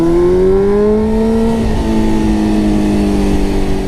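A Suzuki GSX-R 600 sport motorcycle engine revs up loudly and close, its rising whine climbing in pitch, briefly easing, then holding steady at a high, sustained buzz with no talking.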